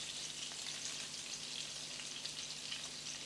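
Meatballs sizzling in a heated saucepan for a homemade spicy tomato sauce, a steady dense frying hiss with fine crackle, close and continuous, no talking.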